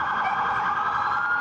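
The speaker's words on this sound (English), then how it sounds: "Tom, the chaos and sirens as well." Emergency sirens wail steadily outside Madison Square Garden in New York, where crowds of Knicks fans line up before a game; the tone holds loud and continuous over dull street traffic, with no talking.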